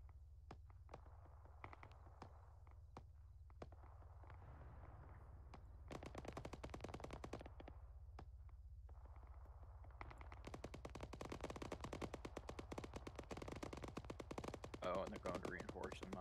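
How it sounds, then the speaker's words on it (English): Bursts of machine gun fire and scattered gunshots crackle through an Arma 3 combined-arms battle, some rapid strings and some single shots, mid-distance over a steady low background. "There's one of them fancy machine guns in the bunker."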